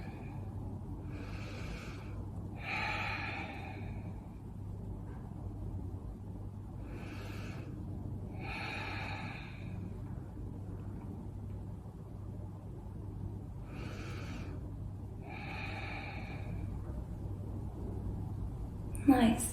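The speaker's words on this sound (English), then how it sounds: "Just a reminder to connect back with your ocean breathing here." Slow ocean (ujjayi) breathing during a seated yoga stretch at an outdoor festival class: soft, airy breath cycles return in pairs every few seconds over a steady low hum.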